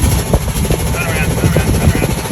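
Sailboat engine running with a blown exhaust pipe, a loud steady rumbling drone with choppy pulsing, close by and continuous, with people talking over it.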